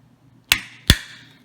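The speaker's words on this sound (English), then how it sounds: "I just take a little wee little screwdriver, put it in there" Two sharp metallic clicks about half a second apart, close and distinct with short ringing tails, as a small screwdriver pries tabs on a Savage Axis .450 Bushmaster rifle magazine.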